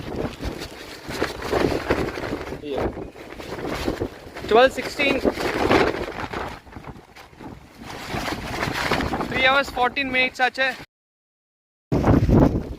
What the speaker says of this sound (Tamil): ரொம்ப காற்று.